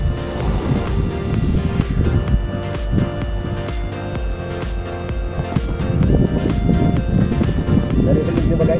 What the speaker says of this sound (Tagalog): Narinig nyo ba guys, napakalakas ng hangin.